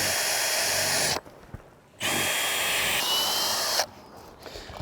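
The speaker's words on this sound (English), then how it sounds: "Then we're going to pre-drill" A power drill pre-drills two lag-bolt holes into a wooden roof truss for a grid-tie solar mount, whining loudly in two sustained bursts separated by a short pause, then a third stretch that stops abruptly.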